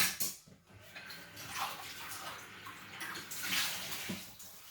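Cumin seed drink, just run through a strainer, pours and splashes into a container close by, in uneven bursts with brief pauses, quiet overall and with no talking.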